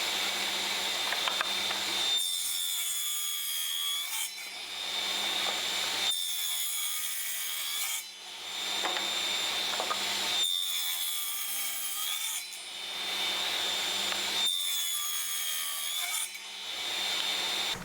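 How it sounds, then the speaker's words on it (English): Circular saw cutting tenons on oak casement window joints, several passes in a row: the blade whines at high pitch during each roughly two-second cut, then the motor runs on in a lower idle between cuts. "we're working from the face again with the circular saw there to produce the tenon"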